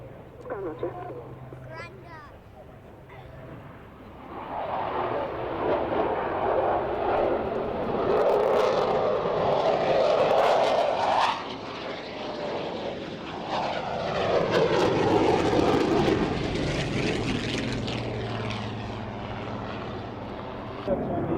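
A Spitfire and a Typhoon fly a synchro display at an airshow at Waddington, the jet roar and propeller drone swelling twice as they pass, loud and broad, with crowd or commentary talk running underneath.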